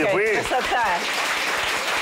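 Studio audience applause on a Russian cooking show, a brief burst of clapping that rises under a woman's animated speech and continues as a soft steady patter behind her.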